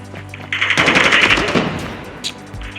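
Rapid automatic gunfire from the Call of Duty Mobile video game rattles in a dense, close burst lasting about two seconds, fading out with a few scattered shots.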